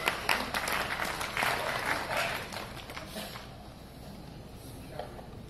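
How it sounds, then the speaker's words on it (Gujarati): An audience applauds at a family physicians' award and felicitation ceremony, with dense, steady clapping that is strongest over the first three seconds and then thins out to a softer patter. "ખૂબ તાળીઓથી વધાવીએ."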